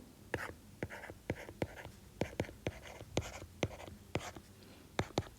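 Math written out by hand for a calculus problem, a pen or marker tapping and scratching in quick, irregular strokes, close and fairly quiet, with no talking.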